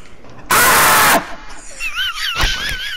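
A person screams loudly in a short, harsh burst during a late-night scream match, then a shrill wavering voice and chatter follow nearby.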